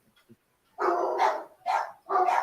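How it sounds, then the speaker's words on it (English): A big dog lets out three loud, close barks in quick succession, each a short gruff burst, after a moment of near silence with a few faint sounds. "it's just a loud dog"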